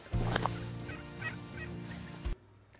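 Farmyard chickens and a rooster calling close by, a loud cluck and squawk at the start followed by a run of throaty clucking that cuts off abruptly.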